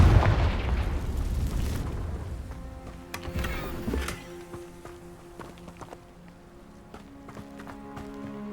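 A Confringo blasting spell going off in the Hogwarts Legacy video game, inside a ruined castle: a booming explosion that rumbles and decays over a few seconds, followed by scattered sharp knocks and debris clatter.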